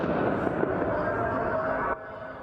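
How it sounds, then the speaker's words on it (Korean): Missile fired from a warship exploding on the ground in news footage, a sustained heavy rumbling roar that cuts off abruptly near the end, loud and close. "군함에서 발사된 미사일이 지상에 떨어지며 폭발합니다."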